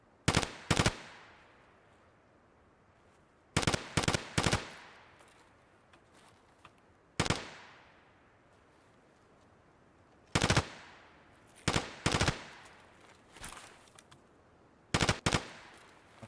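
Gunfire in Escape from Tarkov rings out in repeated short bursts of loud, sharp shots, each cluster of two or three cracks separated by a few seconds of quiet decay, with no talking.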